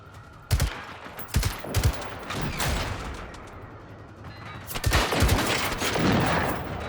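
Bursts of gunfire in the video game Generation Zero, several sharp shots cracking out in quick clusters, then a denser volley of rapid fire near the end over a steady background rumble.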